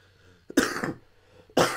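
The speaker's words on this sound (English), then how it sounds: "Still working my way off that cough" Two harsh coughs, close and loud, about a second apart, with near silence between them.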